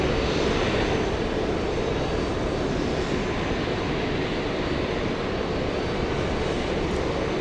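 Loud, steady broadband jet roar from a Condor airliner arriving at JFK, close and sustained the whole time with no talk.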